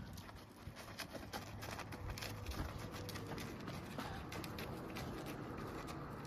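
Hooves thud in a quick, rhythmic clip-clop as a horse runs, faint and somewhat distant, with light background noise.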